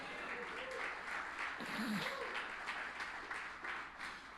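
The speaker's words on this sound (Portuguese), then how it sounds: "Se você crê, dá um grito de júbilo e um aplauso a Jesus." Church congregation at an anniversary celebration breaks into sustained applause and shouts of joy, dense clapping with scattered voices cheering underneath.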